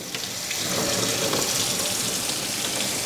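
Cleaning solution runs through the nozzle of a one-gallon beer brewing kit, a steady gushing water stream pouring continuously at close range, with no one talking.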